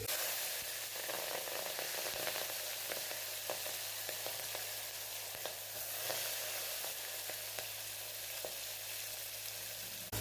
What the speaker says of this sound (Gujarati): હવે આપણે ચોળીને આપણે એક મિનિટ માટે તેલની અંદર થવા દઈશું